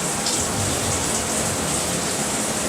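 Water streams steadily from a 12-inch rainfall shower head, a dense, even hiss of falling spray that holds constant and fairly loud throughout with no pauses.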